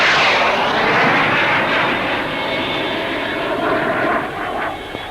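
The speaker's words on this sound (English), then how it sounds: "a 2-seat training version of this lightweight fighter" A two-seat training version of a lightweight jet fighter flies past at the Farnborough Air Show, its engine a loud, steady roaring whoosh that holds strong and eases slightly toward the end.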